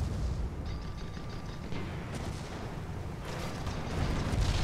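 Cannonade from ships in a naval video game battle, the Queen Anne Zeal among them, a dense rolling rumble of booms and bursts, steady and heavy throughout with brief high whistles above.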